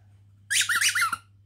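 A baby's toy gives a quick series of loud, high squeaks, about four in a row, over a low steady hum.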